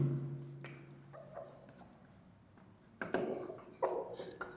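Pen or marker writing on a board during a maths lesson on factors and multiples, with soft scratchy strokes that are faint at first and grow louder near the end.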